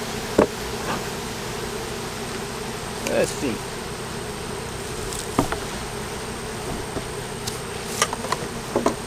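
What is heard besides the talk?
honeybees humming loudly in open hive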